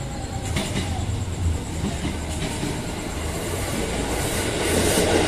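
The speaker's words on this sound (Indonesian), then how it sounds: "Selanjutnya kita nunggu KRL yang akan masuk di jalur 3 stasiun Depok Baru." A KRL commuter train rumbles into track 3 at Depok Baru station, Indonesia, with rolling wheel noise and clacking over the rails, growing gradually louder as it approaches.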